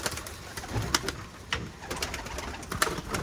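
Pigeons coo softly amid a busy, noisy background with scattered clicks and flutters, the calls low and repeated.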